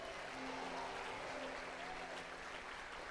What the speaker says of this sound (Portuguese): dá um glória a Deus e aplauda Ele